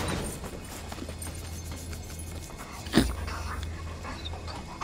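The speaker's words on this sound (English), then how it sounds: "You can actually pet that dog." Dog panting in the video game Remnant: From the Ashes, a steady rhythmic breathing loop running throughout at moderate level over a low game hum, with one brief louder thump partway through.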